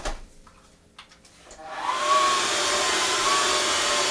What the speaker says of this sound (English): And they might vacuum.